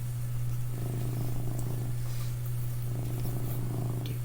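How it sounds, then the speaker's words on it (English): A cat purrs steadily and up close, its rhythmic low rumble pulsing over a constant background hum, with no speech. "can you guys hear him purring over the microphone? Because to me he's really loud."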